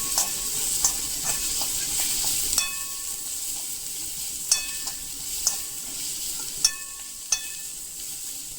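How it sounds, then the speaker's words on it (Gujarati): Ghee tempering sizzles over dal with finely chopped onion stirred in, a steady close frying hiss broken by sharp spoon clicks and scrapes against the pan every second or so. "ઘીથી તમે વઘારશો એટલે દાળની સુગંધ ખૂબ જ સરસ આવશે."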